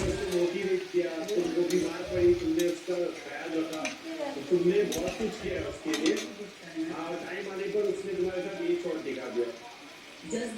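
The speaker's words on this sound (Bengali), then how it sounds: "শাক আর বেগুনটা ঢেলে দিয়ে আমি একটু ভালো করে একটু নেড়ে নিচ্ছি" Malabar spinach and eggplant being stirred in a cooking pot with fish head: repeated scraping and clinking of a spoon against the pot over a soft sizzle, with someone talking throughout.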